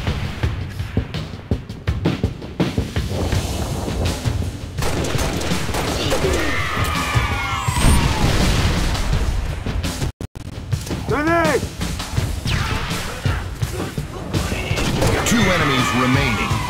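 Grenade explosions and dense rapid gunfire fill the Beachhead shooter game, with continuous loud bursts and booms, metallic whooshes and a game voice announcer calling out over the chaotic firefight.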